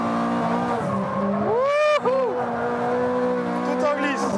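A Ferrari 430 Scuderia on fresh tires slides through a racetrack corner at Exotics Racing in Las Vegas, its engine note rising and falling with a brief tire squeal midway, while someone talks over it.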